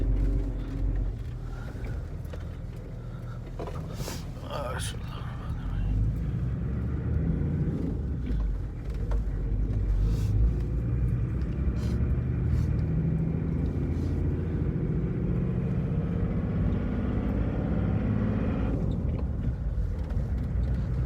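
A 1992 Toyota Land Cruiser HZJ77 engine runs steadily with a low, continuous rumble, and a few brief knocks and handling sounds sit on top of it.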